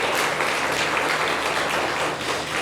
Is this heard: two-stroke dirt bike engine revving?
no